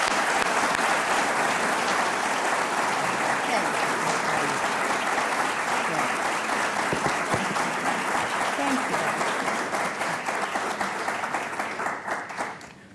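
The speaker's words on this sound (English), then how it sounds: "Please join me in a tremendous round of applause for a great professor." A lecture audience gives a long, sustained round of applause for a professor, with loud, dense clapping that holds steady for over ten seconds before tapering off at the end.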